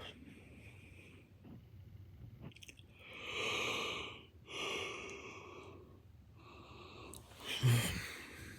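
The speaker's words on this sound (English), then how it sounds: "I'm yawning" Long, breathy yawns stretch out one after another, close and fairly quiet, with soft sighing exhalations between them.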